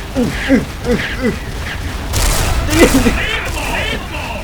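Gunfire in the video game Xshot: a burst of shots and a booming blast ring out amid in-game sound effects, while players talk and shout excitedly over the action.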